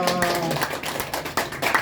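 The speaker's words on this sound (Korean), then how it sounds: "박수 좀 한번 부탁드리겠습니다" An audience at a year-end gathering of a Korean singers' association applauds, with uneven clapping bursts throughout and a voice faintly mixed in.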